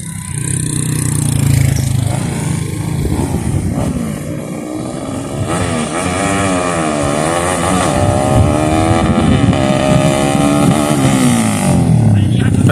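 A trail bike drag-race motorcycle engine, misfiring and with its carburetor jetting being adjusted, revs and idles up close with rising and falling pitch throughout, while people talk over it.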